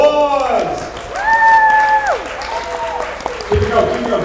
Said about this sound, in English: let's give a huge, big round of applause